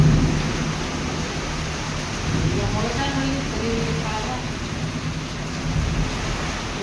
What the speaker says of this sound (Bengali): আর বাইরে কিন্তু ভীষণ জোরে ঝড় বৃষ্টি হচ্ছে